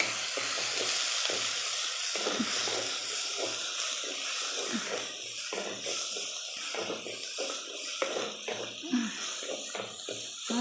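Village-style masala with tomatoes sautéing for a country chicken curry, a close steady sizzle broken by stirring scrapes and spoon knocks, with no talk over it.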